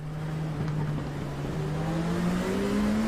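LMP2 prototype race car in iRacing at Road America pulls out of the pits after a clutch dump, its engine droning loud and close, then pitch rising steadily as it accelerates away.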